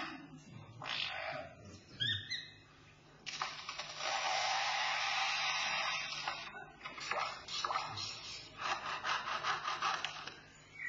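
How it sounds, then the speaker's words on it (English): Foresters' chainsaws working nearby, heard as sustained buzzing, rasping runs that start and stop in several bursts, the longest lasting a few seconds, fairly close and with no talk. "And now the sounds of foresters and their chainsaws working nearby."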